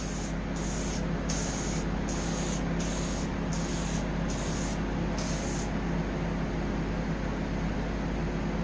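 A spray can lays down a light coat of paint in about seven short, evenly spaced bursts of loud close hiss, followed by steady background noise with no talking.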